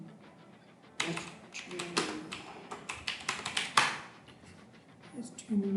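Keys tapped on a computer keyboard while entering HTML table code, a run of close, uneven clicks in bursts of varying loudness with a brief louder cluster midway and soft gaps between.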